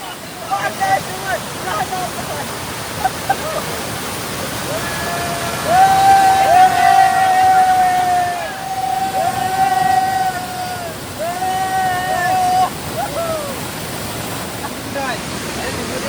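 Bheli waterfall makes a steady broadband rush of falling water that fills the background, with voices talking and calling over it.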